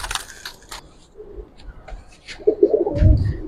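Giribaz pigeons in a loft giving soft low coos near the end, with scattered rustling and small bird sounds before.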